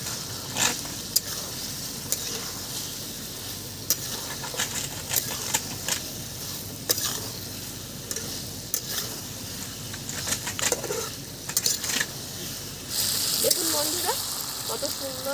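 Chili chicken stirred in a pan with pre-fried capsicum and onion, a steady sizzle under scattered spatula scrapes and knocks, with a voice talking over it.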